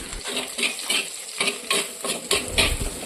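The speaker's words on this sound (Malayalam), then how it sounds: "എണ്ണ ചൂടാകുമ്പോൾ രണ്ട് ടീസ്പൂൺ വീതം ചതച്ചു വെച്ചിരിക്കുന്ന ഇഞ്ചിയും വെളുത്തുള്ളിയും ഒരു തണ്ട് കറിവേപ്പിലയും ഇട്ട് വഴറ്റി കൊടുക്കാം" Crushed ginger, garlic and a sprig of curry leaves sautéed in hot oil: a spoon scrapes and clinks against the pan in repeated strokes over a light, steady sizzle, close by.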